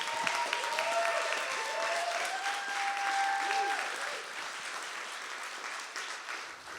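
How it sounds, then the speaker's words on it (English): An award ceremony audience applauds the finalists of the Moonshot Idea Award 2024, with sustained, even clapping that fills the room and slowly tapers, while a few voices briefly call out over it. "please, let's give them a proper round of applause"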